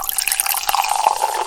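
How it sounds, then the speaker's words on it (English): Fizzing carbonated soda in a glass crackles with dense, tiny popping bubbles, a close, bright, continuous hiss with scattered droplet ticks and no talking. "And that carbonated water and sparkling bubbles popping all over the place."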